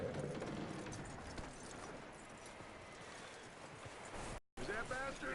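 Horse hooves clip-clop steadily in the open-world western video game Red Dead Redemption 2, a continuous rhythmic gait heard close over a dense outdoor ambience that cuts out briefly before resuming.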